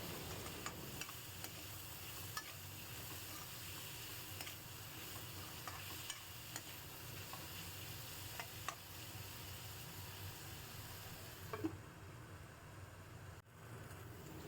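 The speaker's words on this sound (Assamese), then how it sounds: "এইখিনি দি মই এতিয়া ঢাকি ৰাখি ভালদৰে ভাজি ল'ম আলু আৰু মূলাখিনি" Potato and radish pieces with turmeric and salt fry under a lid in a covered pan, producing a faint, continuous muffled sizzle with occasional soft ticks and knocks.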